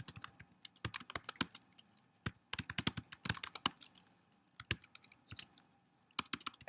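Rapid typing on a computer keyboard during a lecture on file input and output, with bursts of crisp, close key clicks in uneven rhythm and brief pauses between runs.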